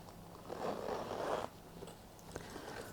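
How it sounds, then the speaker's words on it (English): Zipper on a back pocket of a fine glove-leather bag drawn in one smooth, steady pull lasting about a second, close and soft, followed by faint handling clicks and no talking. "Another nice smooth zip."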